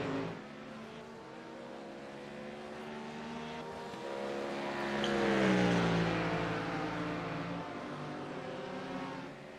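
Race cars, including a BMW, run in a two-hour endurance race at Detroit, their engines droning and revving as they pass, swelling louder midway and then easing off while staying steady.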